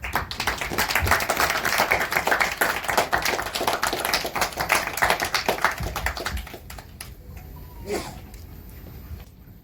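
Audience applause for the team behind the Kannada film Yuddhakanda, a dense, steady wash of many hands for about six seconds that then thins out and fades away.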